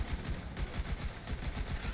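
Shots from a pistol in Borderlands 3, a rapid, regular string of sharp reports fired in quick succession and heard close but at a moderate level, with no one talking.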